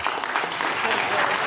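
An audience at a Trump event breaks into loud, continuous applause, a dense roar of clapping that holds steady through the short stretch.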